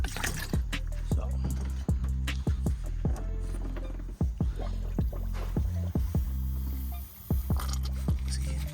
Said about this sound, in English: Until the coolant was supposed to come out on that bleeder valve.